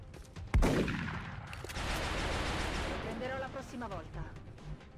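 Infantry gunfire in the strategy game X-Com Long War, a sharp shot followed by a sustained crackling burst of fire, heard under someone speaking German.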